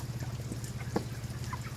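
Sick chickens on a poultry farm cluck faintly over a steady low hum, with one brief sharper squawk in the middle and soft scattered calls throughout.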